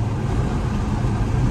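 A Nissan GT-R's engine hums low and steady while cruising, a constant close rumble with road noise and no break in tone.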